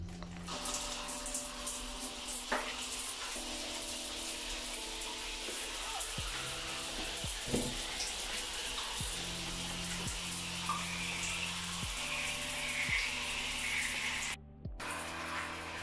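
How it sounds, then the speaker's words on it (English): A shower runs steadily in a home bathroom in a South African village, giving a constant hiss of falling water throughout, with a few faint knocks and no talking. "I'm just going to turn on the shower."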